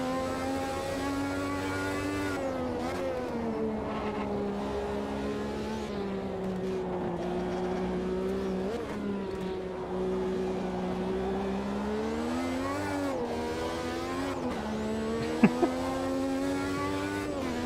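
Race car engine in the sim game Automobilista 2, a steady, droning turbocharged engine note that climbs and dips as the car accelerates and shifts, heard alone with a brief sharp click near the end.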